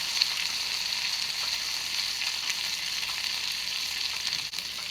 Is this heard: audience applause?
no